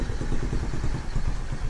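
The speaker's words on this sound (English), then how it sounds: "she's idling about half an RPM and then she cuts out" A Honda Z50 minibike's small single-cylinder engine idles close by with a rapid, uneven low putter and light mechanical clatter, steady and loud throughout with no voices.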